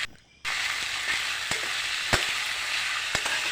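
Cowpea seeds sizzle steadily in a hot pan, a dense frying hiss with occasional sharp scraping clicks as they are stirred, starting abruptly after a brief quiet moment.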